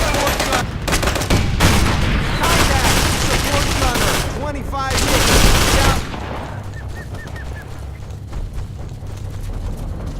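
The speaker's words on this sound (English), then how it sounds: "gunshots feel louder, explosions sound more muffled if they're happening outside" Rapid bursts of video game gunfire and booming explosions from Operation Flashpoint: Dragon Rising, loud and dense for several seconds, then sparser distant shots and crackles.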